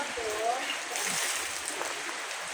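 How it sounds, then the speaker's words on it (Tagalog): A heavy downpour in the Laguna, Cavite and Batangas region hisses in a constant wash of water, with faint trickling and splashing nearby and a brief squeak partway through. "Kaya lang, grabe pa rin ang ulan."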